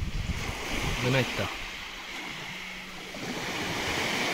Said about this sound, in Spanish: ha sido poner la grabación y he venido una racha de aire